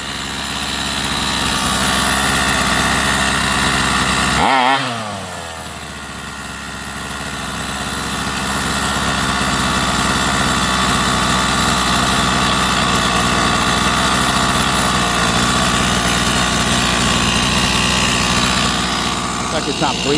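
Rovan 45cc gas engine, a two-stroke with a loose head, runs steadily at idle while being tuned lean, with a brief dip and stumble near five seconds before the drone picks back up for the rest of the clip.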